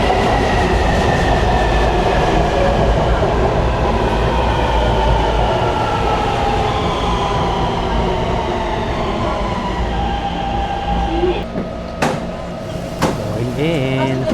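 Steady rumble of a Taipei MRT metro train in motion, a constant low roar with faint rail hum, and a few brief clanks and squeaks near the end.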